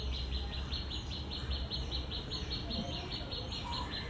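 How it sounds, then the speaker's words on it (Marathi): Birds chirp in a quiet Pune morning garden with tulsi, aloe and gulmohar, a fast regular series of thin high notes repeating steadily over soft background noise. "आजूबाजूला पक्ष्यांचा किलबिलाटामध्ये ना"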